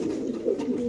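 A male racing pigeon at a pigeon farm gives a short, throaty coo, close and clear, lasting under a second with no talk over it.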